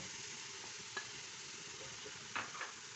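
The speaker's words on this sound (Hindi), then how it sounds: "अब हम इसमें डालेंगे ये लहसुन अदरक" Garlic and ginger hit a hot pan for biryani, giving a soft, steady sizzle with a few brief stirring clatters, fairly quiet and without voices.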